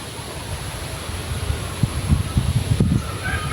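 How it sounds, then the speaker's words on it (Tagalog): Wind blowing outdoors in a rural Philippine province, heard as steady broadband rushing with low rumbling gusts buffeting the microphone, growing stronger and more blustery toward the end. "It's still windy in my area."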